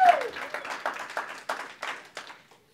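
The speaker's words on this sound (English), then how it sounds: "One class, we all clap." A church congregation clapping together, a few loose bursts of claps in a large room that fade out quickly, faint and somewhat distant.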